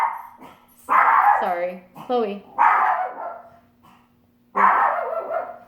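A dog named Chloe barking close by indoors, several loud, sharp barks in quick bursts with short pauses between, and a person speaking briefly among them.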